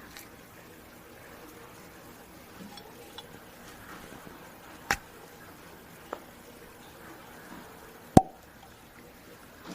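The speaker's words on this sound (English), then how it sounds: "Let's go ahead and pop the cork." A cork pops from a bottle of 100-proof Creek 9 Year whisky: a sharp, close pop stands out late in the clip, with an earlier fainter click and soft handling noises in a quiet room.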